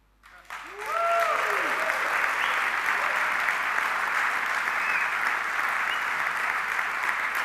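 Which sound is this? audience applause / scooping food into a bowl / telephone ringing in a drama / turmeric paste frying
audience applause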